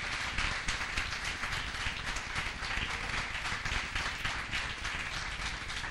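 A church congregation gives loud, sustained applause to the Lord, a dense wash of many hands clapping continuously without a break.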